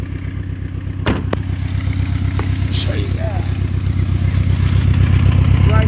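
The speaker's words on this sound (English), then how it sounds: "It's got an exhaust leak right at the converter." Dodge Ram pickup idling with an exhaust leak at the catalytic converter, giving a rapid, loud, rhythmic ticking puff close by, with a brief clank and someone speaking over it.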